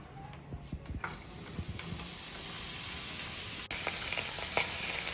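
Steady sizzling of beets frying in a hot pan for borscht, with a few soft stirring clicks early on and a continuous crackling hiss throughout.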